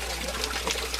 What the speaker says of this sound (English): The fountain system that happens to be here is a major piece of work for as far as the Inca are concerned.